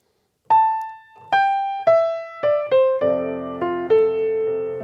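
Piano alone plays an opening melody without any slip note, seven clear struck notes stepping downward over about four seconds, each left to ring and decay, close and moderately loud.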